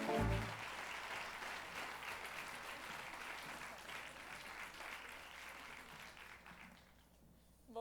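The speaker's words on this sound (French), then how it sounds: "offrons une bonne main d'applaudissements à la révélation de l'année" Audience at a cabaret-theatre arts awards evening applauds a newcomer of the year, sustained dense clapping from a sizable crowd after a brief voice at the start, fading out toward the end.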